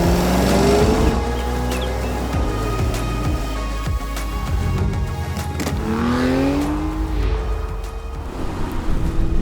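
Edited car sound design with engine revs, tire squeals and whooshing pass-bys layered over music, loud and continuous, with rising and falling engine pitch sweeps throughout.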